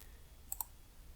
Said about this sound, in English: you could easily use the calculator to solve this problem